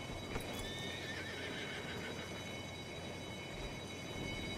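Horse in the RedM video game, with clip-clopping hooves and a whinny over a steady background hum, heard moderately close.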